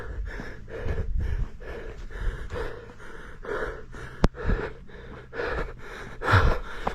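A runner pants heavily while climbing uphill on a 10 km mountain run, rhythmic close gasps and snorting breaths about once per second, with a sharp click partway through.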